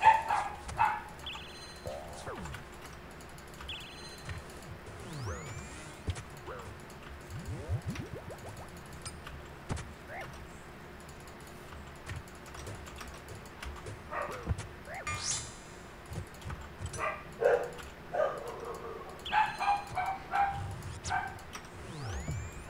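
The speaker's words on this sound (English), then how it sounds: "Sorry if the dog's barking, guys." A pet dog barks and yips faintly in the background during a live game stream, with short, scattered, intermittent outbursts sitting well behind soft game sounds.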